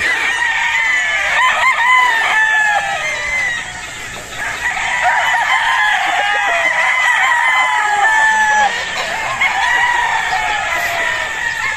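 Battle stag roosters at a game fowl farm crow repeatedly and loudly, overlapping calls near and far, with clucking underneath and occasional voices.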